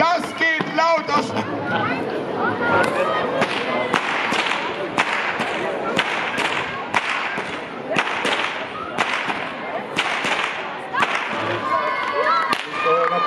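Sharp whip cracks ring out repeatedly at an outdoor knights' tournament show in Schluderns, loud and percussive over a cheering, chattering crowd.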